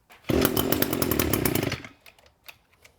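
A two-stroke weedeater engine runs with a loud, buzzing rattle for about a second and a half after a short start, then cuts off abruptly into quiet, leaving only faint knocks and rustles.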